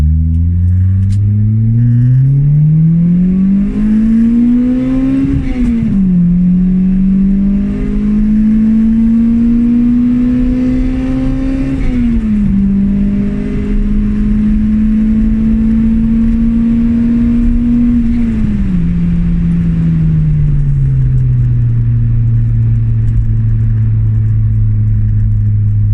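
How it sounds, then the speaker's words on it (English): A Toyota Corolla RXi with a 20-valve 4AGE twincam 1.6 engine and aftermarket F1X exhaust revs and pulls through gears, a loud, close, continuous drone that climbs in pitch, drops at each shift, then settles, with no voices. "Engine starts to make a more higher pitched noise with the variable valve timing, cam lifts"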